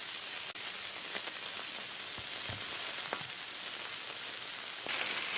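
Sous vide beef roulade bombs searing on a Blackstone griddle, a steady broad hiss of frying with faint crackles and pops, close and alone without talk.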